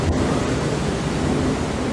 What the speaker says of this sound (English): Let me turn off the ocean noises real fast.